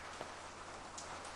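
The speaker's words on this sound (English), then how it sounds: "The rain is nice." Steady rain falls in the pixel-art video game Kiosk, a soft continuous patter of drops on a surface with a few slightly louder drips, even and quiet throughout.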